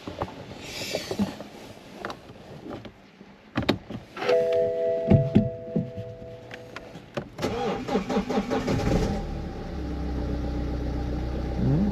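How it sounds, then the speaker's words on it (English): A BMW's engine, with its engine warning light on, cranks and catches after a keyless start, then settles into a steady running hum, preceded by clicks and a whirring electric sound. "Can start the car without a key"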